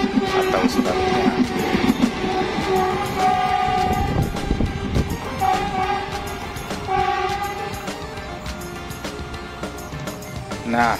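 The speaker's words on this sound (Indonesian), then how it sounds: "Kebetulan ada kereta yang lewat." A train rumbles past nearby with a sustained horn and rolling rail noise, steady and loud throughout, with voices faintly mixed in.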